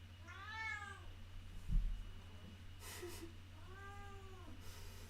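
A cat meows twice, a drawn-out close cry near the start and another a few seconds later, over a steady low hum with a brief thump between.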